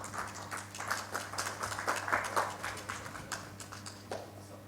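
Audience at a heart-care awareness conference applauds, a faint patter of scattered hand claps that swells and fades, heard from a distance with a low hum beneath.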